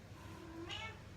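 A cat gives a single short meow, fairly close, over steady low background hum and street noise in an outdoor urban setting.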